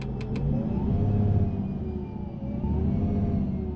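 A bus's retarder engine brake in a bus driving video game drones and rumbles steadily with a deep, continuous braking growl, close and loud, with no talking.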